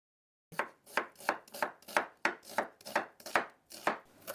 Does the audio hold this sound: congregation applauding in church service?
no